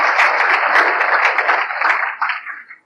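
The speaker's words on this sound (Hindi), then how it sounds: "जोर की ताली, जोर की ताली।" Loud, dense applause from a crowd at a religious gathering, sustained for a few seconds before tapering off quickly at the end.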